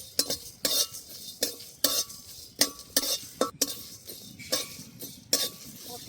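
Coriander seeds and broken bay leaf dry-roasting in a pan, stirred with a utensil that scrapes and clinks against the metal in quick, irregular strokes, with no talk.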